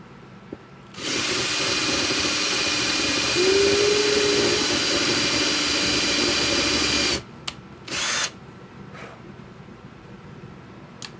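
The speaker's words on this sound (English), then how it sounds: "let me go ahead and finish drilling my holes" A power drill whirs loudly for several seconds, then stops, followed by a second short burst of drilling and a few light clicks.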